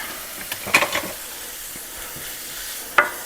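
Bacon sizzles in a lightly oiled skillet, a steady frying hiss with a few louder stirring scrapes near the start and one sharp clatter near the end, with no talking.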